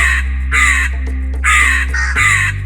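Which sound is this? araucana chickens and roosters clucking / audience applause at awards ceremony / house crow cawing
house crow cawing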